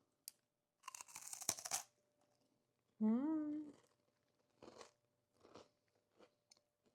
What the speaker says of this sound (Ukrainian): Корзиночки хрумтять, і начинка дуже ніжна і доповнює один одного.